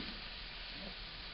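Translucent onions frying in oil on a stovetop, a soft, even sizzle running steadily through the moment with no speech over it.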